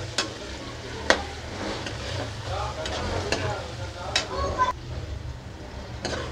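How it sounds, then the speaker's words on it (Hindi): Minced meat keema sizzles in a pan for aloo keema matar, with a steady frying hiss under repeated scraping stirs of a spatula and a few sharper knocks against the pan. "अब इस इसमें हम कीमा ऐड करेंगे इसको अच्छे से भुनेंगे हम"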